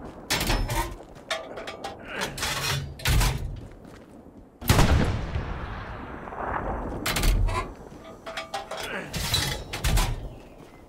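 An artillery gun in Hell Let Loose fires high-explosive shells: a series of sharp, heavy booms spaced a few seconds apart, one especially loud and rumbling blast midway, each followed by a fading roar and mechanical clanks.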